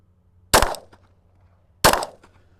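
Two sharp gunshots at 15 yards, fired through a Dalbinowl TYTO-R 2.5 MOA red dot sight, about a second and a quarter apart, each a loud crack with a short decaying ring over quiet background.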